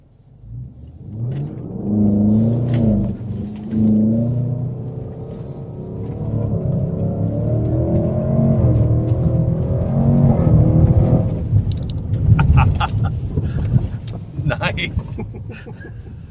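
A Range Rover Sport SVR's engine rumbles and builds in a long, steady rev off-road, rising and holding before easing off, with voices talking over it near the end.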